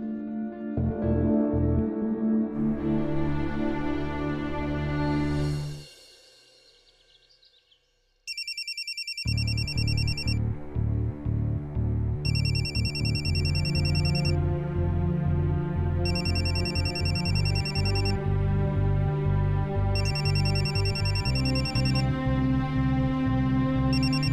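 A telephone rings in repeated bursts of bright electronic trills with short pauses between them, loud and near, following a stretch of background music that fades out briefly before the ringing begins.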